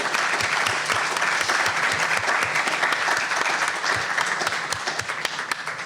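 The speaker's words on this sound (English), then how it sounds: "So really give them a rousing hand of applause." An audience at a UCLA event applauds honorees with dense, steady clapping that stays loud and sustained before starting to thin out near the end.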